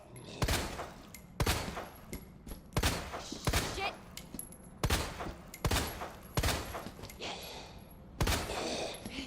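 Gunshots ring out in the Resident Evil 2 Remake video game, about eight loud, sharp reports spaced roughly a second apart, each with a short decay, over faint game ambience.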